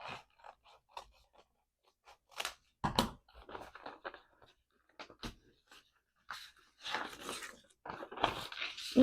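Scissors snip through a paper sewing pattern pinned in place, for a tulle cake cover, in short crisp bursts of cutting and rustling separated by brief pauses, close and moderately loud.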